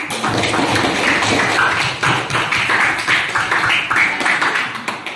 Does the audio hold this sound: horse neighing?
no